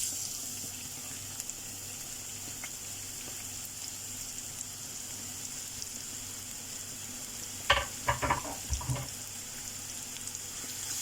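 Chopped onion and whole white cumin sautéing in a pan, a soft steady sizzle throughout with a few brief louder stirring clatters near the end.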